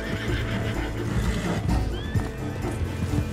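A horse whinnies and its hooves clop in Red Dead Redemption 2, the neigh rising briefly near the middle over a dense bed of game ambience and a steady low rumble.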